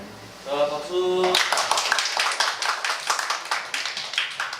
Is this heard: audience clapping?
yes